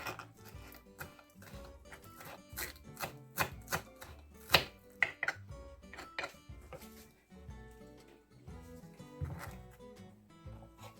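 A knife chopping fresh parsley on a cutting board, with quick irregular bursts of sharp taps and clatter that rise and fall in pace, close and fairly quiet, with no talking.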